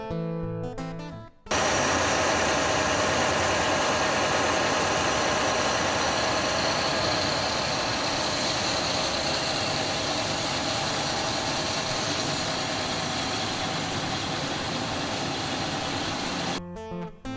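A Honda BF25 four-stroke outboard motor, being flushed after submersion, drones steadily and loudly for a long stretch, a constant mechanical hum with no change in pace, starting and stopping abruptly.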